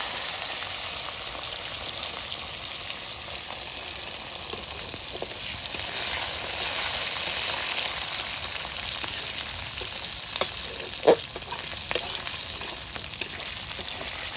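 Gunda frying in hot oil with mustard seeds and cumin, a steady close sizzle with scattered sharp pops and crackles, loudest toward the end, with no talking.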